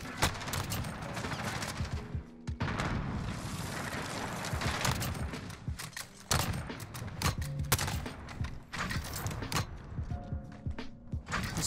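Sniper rifle shots ring out in the video game Modern Warfare, sharp repeated cracks mixed with mechanical bolt and reload clacks amid busy in-game noise.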